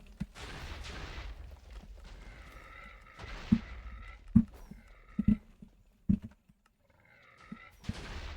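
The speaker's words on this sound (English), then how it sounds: "What are those shots?" Gunfire in a party video game comes as a few sharp, isolated cracks spaced irregularly over a few seconds, set among other game sounds and jingles.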